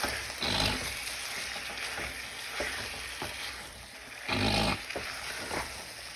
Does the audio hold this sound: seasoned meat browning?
yes